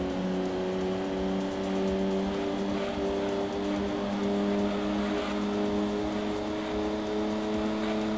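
A TVR or Lotus engine held at full throttle in Gran Turismo 2, a steady loud buzzing drone with a constant high pitch, briefly joined by faint tire squeal, alone without talk.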